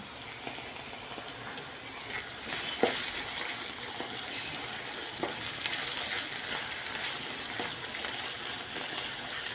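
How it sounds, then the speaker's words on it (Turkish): Minced meat sizzling and browning in a pan for mantı filling, a steady broad hiss with occasional soft scrapes and clicks of stirring, close and continuous with no talk. "Kıymalar şahane bir şekilde kavruldu."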